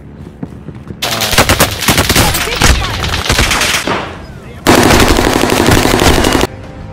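Rapid automatic gunfire in an online first-person shooter match, sustained loud bursts of machine-gun fire with a short lull before a second dense volley, close and dominant with no talk over it.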